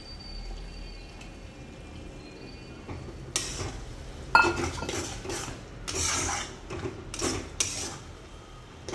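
Prawns tumble into a pan for a shrimp stir-fry, setting off a series of clattering utensil knocks and sharp scrapes against the pan, with a bright hit partway through, then steady stirring and clinks.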